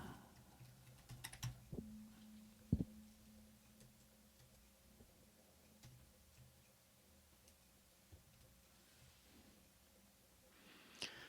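Quiet, scattered keystrokes on a computer keyboard, with a few sharper clicks in a short burst early on, then sparse light taps in a hushed room.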